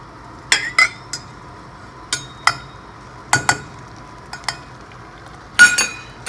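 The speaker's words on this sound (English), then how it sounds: "You then stir the heavy cream in until the cream has all disappeared" A utensil stirs caramel and heavy cream in a pan, giving scattered metallic clinks and scrapes against the pan at an irregular pace over a quiet background, with no voices.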